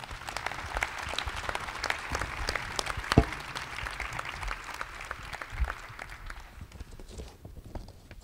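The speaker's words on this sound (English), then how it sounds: "Please join me in giving a round of applause to our panel." Applause for a panel fills the room as a dense, moderately loud patter of many hands clapping, holding steady for several seconds before thinning out toward the end.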